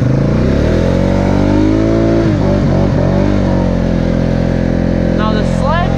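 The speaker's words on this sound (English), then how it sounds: "I'm spinning out in about a foot of snow and I'm not even hitting the ground yet." A Polaris four-wheeler engine revs hard in about a foot of deep snow with wheels spinning, a loud sustained droning roar whose pitch swells and dips, with a voice briefly audible near the end.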